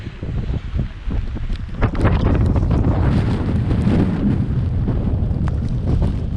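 Strong wind roars loudly and continuously on a red sand beach on the Isle of Skye coast, buffeting the microphone with gusty rumbles and rushing noise throughout.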